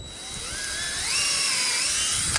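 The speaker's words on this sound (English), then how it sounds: "I kind of wait till I feel the chips building up in the drill." A power drill bores a tap hole into a maple tree for syrup collection, a rising high-pitched whine revving up and holding steady up close for a couple of seconds.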